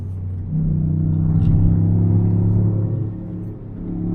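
A Toyota Yaris GR being driven, heard as a steady low engine drone and road rumble from inside the cabin, swelling slightly then easing, with no talking.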